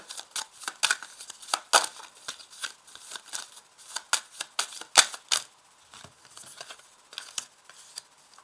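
Tarot cards riffled and slapped down one by one, a dense run of crisp papery flicks and taps that thin into scattered single card snaps, close and fairly quiet with no talk.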